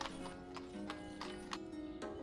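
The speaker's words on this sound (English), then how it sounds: "there's a horse wagon going to pick this up." A horse-drawn wagon in the village-building game Ostriv, with steady rhythmic clip-clop hoofbeats over a constant ambient game background, fairly quiet.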